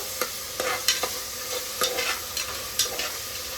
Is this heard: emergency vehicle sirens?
no